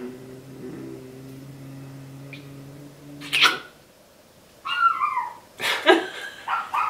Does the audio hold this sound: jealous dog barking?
yes